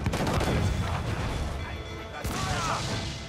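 A loud gunshot-like crack in Assassin's Creed 4: Black Flag, with a sharp burst partway through over continuous dense game noise and rumble.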